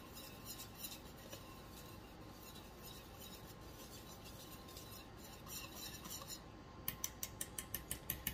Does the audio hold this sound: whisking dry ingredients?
yes